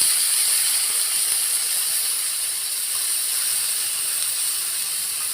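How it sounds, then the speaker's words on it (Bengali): Water poured into a hot pan of fried gime greens sends up a loud, continuous steamy hiss that holds steady throughout, with no talking. "এবারে আমি অল্প জল দেব।"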